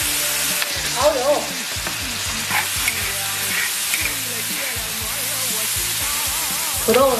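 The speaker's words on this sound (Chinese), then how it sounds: "豆角子大火多炒一会儿，炒焦绿焦绿的" Green beans stir-fry over high heat in a wok, loud crackling sizzle with repeated scraping and tossing of a spatula, continuous and close.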